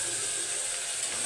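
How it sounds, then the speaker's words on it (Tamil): Onions and ginger garlic paste fry in a pan, giving a steady, close hiss and crackle of sizzling with no break. "இஞ்சி பூண்டு பேஸ்ட் போட்டு நல்லா வதக்கிக்கணும்"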